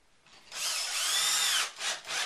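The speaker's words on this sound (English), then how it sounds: "And we can just put a couple of screws in there." A power drill drives screws into a drywall patch piece, a close loud whine that runs about a second before dropping into two short bursts as the screws are cinched tight.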